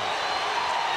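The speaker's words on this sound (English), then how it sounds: "the San Antonio fans giving him a well-deserved round of applause" San Antonio fans fill an arena with steady applause and crowd roar, a dense, even wash of clapping throughout the brief moment.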